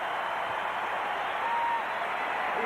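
A basketball crowd at a 1992 Olympic qualifying game, Cuba versus the USA, applauds in a steady, dense wash of clapping that holds at even strength throughout, with no clear voices on top.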